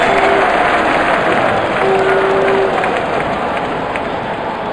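Cricket stadium crowd at an IPL match between Royal Challengers Bangalore and Chennai Super Kings, roaring steadily as a six lands in the stands, a dense, loud wash of cheering that eases slightly toward the end.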